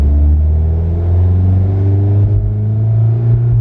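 A VW Golf GTI with a big turbo pulls under load as it comes on boost, a loud close droning engine note rising steadily in pitch over a few seconds.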